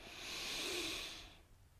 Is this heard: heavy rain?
no